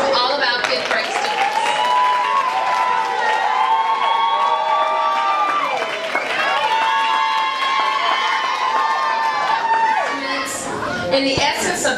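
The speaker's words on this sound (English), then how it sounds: "Now let's give one final applause for all of our fifth grade students." Loud applause and cheering from a crowd at a fifth grade graduation, with children shouting and chattering amid steady clapping, all held at a high, sustained level.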